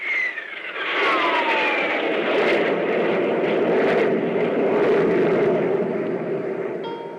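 Radio drama spaceship jet drive effect: a loud, steady roaring rush with a descending whine at the start, sustained for several seconds before easing off slightly at the end, with no talking.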